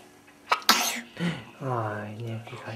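A young child gives a sudden, close sneeze-like burst, followed by adult voices speaking softly around it.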